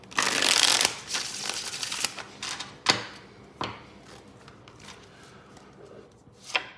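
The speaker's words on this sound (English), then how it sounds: "I feel like I should stop after this shuffle." Tarot cards are riffled and shuffled up close: a loud flurry of rapid flicking, then scattered soft taps and slides as the deck is handled.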